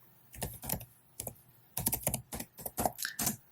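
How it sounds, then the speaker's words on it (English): Close, brisk computer keyboard typing in uneven bursts of key clicks with short pauses, as a command is entered. "I'm gonna type the command again"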